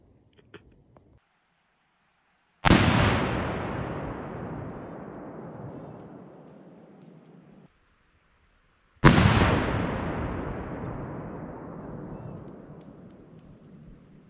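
Two loud single rifle shots from a 16-inch 5.56 rifle fired at Tannerite targets outdoors, each a sharp blast followed by a long booming rumble that fades over several seconds, with a quiet gap between them.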